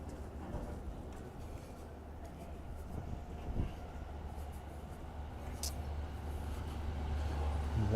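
A blue Keihin Tohoku line train rumbles past in Tokyo, a steady low rolling roar that swells slightly toward the end, with city ambience around it.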